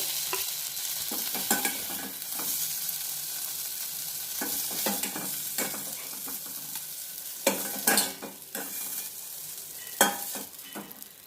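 Okra (bhindi) fries in a pan with a soft, steady sizzle, broken by repeated scraping stirs that come in short bursts, close and fairly quiet.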